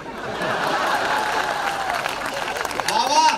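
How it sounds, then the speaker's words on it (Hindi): Audience at a Hindi comedy poetry gathering claps along, a moderate wash of applause with a voice speaking over it and a few chuckles near the end. "तालियां कम रह गई थोड़ी सी आपकी।"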